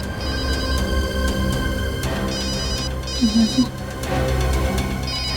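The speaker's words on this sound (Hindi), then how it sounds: "कब से फोन बज रहा है, उठा लो।" A phone rings in a repeating electronic pattern over a busy background, with brief bursts of talk partway through.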